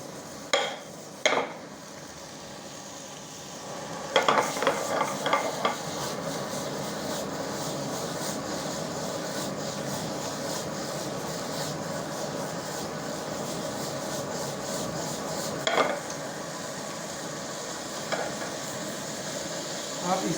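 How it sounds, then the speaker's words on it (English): Bacon or ham sautéing in a pan for a tortilla, a steady close sizzle running throughout with occasional clinks of a utensil against the pan. "Saute it nicely."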